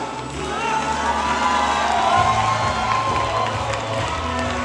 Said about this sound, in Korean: 여러분의 뜨거운 박수와 함성으로 맞아주시면 좋겠습니다